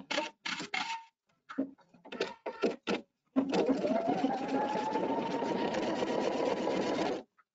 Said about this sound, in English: And I can go ahead and stitch out my design.